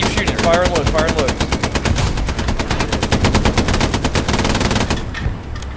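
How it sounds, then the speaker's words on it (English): Loud, close sustained bursts of tank machine-gun fire in the game Hell Let Loose, rapid evenly spaced rounds rattling almost continuously before stopping near the end, with a voice briefly heard under the shooting. "Don't stop shooting, keep shooting. Fire and load."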